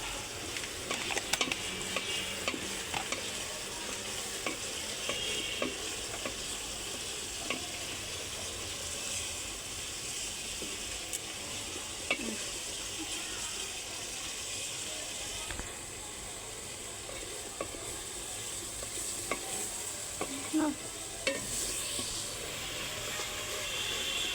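Turmeric and coriander powder fry in a pan on a clay stove, a continuous bright hiss and sizzle with scattered scraping and clinking as the spices are stirred, steady and close throughout.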